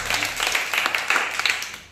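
A small audience claps through a tongue-twister session, a fairly steady patter of hands at moderate level that thins and fades toward the end.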